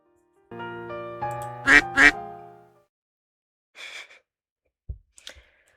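Cartoonish duck quacks from the indie otome video game Pre-Odyssey, a drawn-out quack followed by two sharp, loud ones, then a few softer quacks and short clicks against silence.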